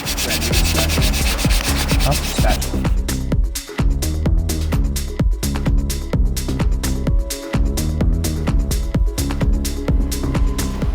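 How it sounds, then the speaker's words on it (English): Steady rhythmic sanding strokes on a McLaren's leather car seat scrape back and forth, loud and close, with a regular repeating pulse and no voices. "here comes the sanding"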